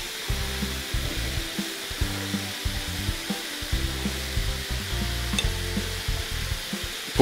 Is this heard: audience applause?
no